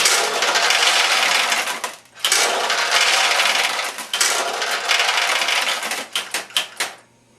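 Pachinko balls from a Nishijin machine's shooter assembly pour out in a dense, loud metallic rattle. It runs in two long bursts with a short gap, then breaks into a few sharp clattering spurts before stopping.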